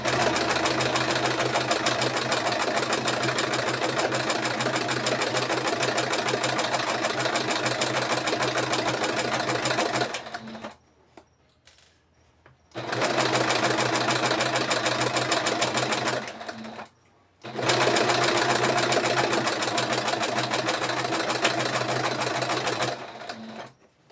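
A sewing machine stitches fabric for a small Miyuki bead baby doll's head, running in three loud, steady bursts with two short pauses between them.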